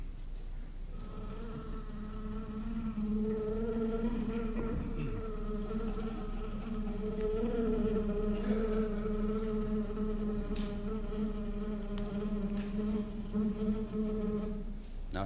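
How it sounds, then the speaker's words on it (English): A bumblebee trapped in a glass jar gives off a steady, amplified buzz. The drone is strongly pitched, hums on without a break for about fifteen seconds and stays fairly even in loudness. "Here on tape is the recorded sound of that bee."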